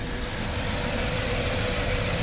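A car engine idling with a cylinder 2 misfire and lean bank 1 condition, heard up close as a steady, low, rough drone with a slight uneven shake running throughout.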